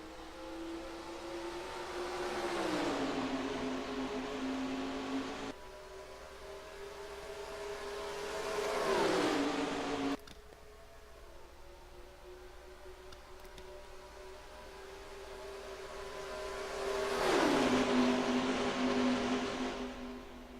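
Stock car engines roar past during a race at Chicago in NASCAR Racing 2003. Three separate passes swell and fade, each pitch sliding down as the cars go by, with a steady engine drone in between.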